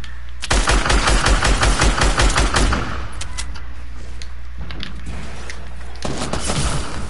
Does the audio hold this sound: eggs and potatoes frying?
no